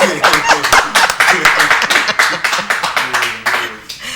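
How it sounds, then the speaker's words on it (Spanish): Audience applause at a Dominican talk-show taping: a dense stretch of clapping from a studio crowd, steady and fairly loud for about four seconds with speech-like bursts and murmurs mixed in. "Vamos a darle un aplauso a este hombre."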